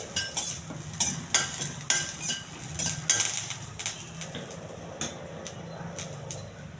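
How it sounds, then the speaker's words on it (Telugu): Rajma tempering (talimpu) frying in a pan, with bright clinks and scrapes of a utensil stirring against the pan over a faint sizzle, loudest early and then tapering. "కొంచెం దోరగా వేగించాలి."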